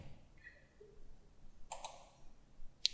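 Computer mouse clicks while working in Inventor 3D CAD software, a few sharp, close, faint clicks spaced over a quiet background.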